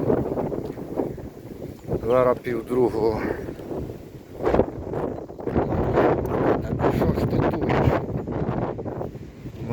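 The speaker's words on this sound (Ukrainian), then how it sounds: "Зараз вітер дує." Gusty wind buffets the microphone in rumbling bursts while a person talks nearby.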